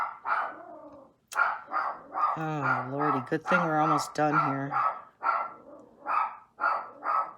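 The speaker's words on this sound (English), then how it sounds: "Somebody must be walking past with their dog." A dog barks, yips and whimpers excitedly at someone walking past outside, with repeated loud nearby barks mixed in among someone talking.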